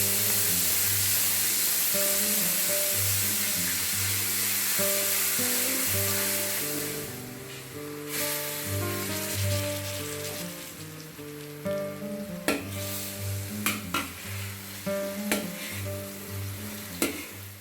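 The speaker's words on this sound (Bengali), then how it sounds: "এভাবে অল্প আঁচে আমি মাছটা এপিঠ ওপিঠ কিছুক্ষণ কষিয়ে নিব।" A whole 2 kg hilsa fish cooking over low heat in half a cup of oil with masala in a kadai, a steady bubbling sizzle that quiets midway, then turns into spattering crackles with occasional sharp pops.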